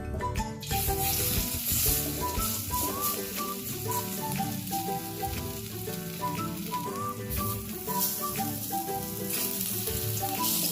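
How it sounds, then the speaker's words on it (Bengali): Khesari lentil fritters deep-fry in hot oil with a continuous, even sizzle that runs the whole time beneath steady tonal background music. "এর মধ্যে আমি বড়াগুলো ভেজে নেব।"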